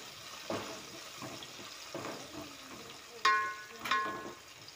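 Onions with turmeric fry quietly in hot oil for a village-style fenugreek mutton curry, a soft sizzle broken by a few stirring scrapes and two bright metallic clinks of a utensil near the end.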